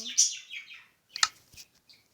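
A pet parrot indoors gives a string of fairly faint chirps and squawks, then a short gap followed by a few sharp clicks and calls, with no human speech over it.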